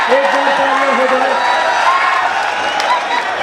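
Crowd applause and cheering fill a kabaddi quarter-final stadium after a super tackle, a steady dense roar throughout with a commentator's voice riding over it.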